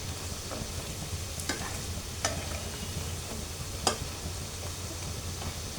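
Semolina and sour yogurt pakoras fry in hot oil, a steady soft sizzle with occasional sharp scrapes and clicks of a spoon stirring the batch, fairly quiet and without any talking.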